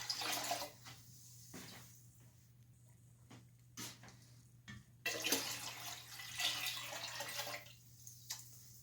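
Water splashing and pouring in intermittent bursts into a large pot, 16 cups in all for making mead, with quiet gaps, a low hum, and a few knocks between pours.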